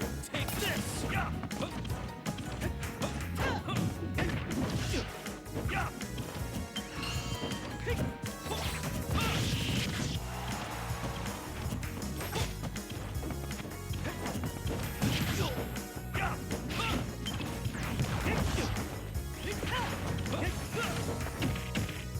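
Hard smashing hits from a Super Smash Bros match between Richter and Hero, including a down smash, crashing impacts and game effects piling up continuously over busy game music and commentary.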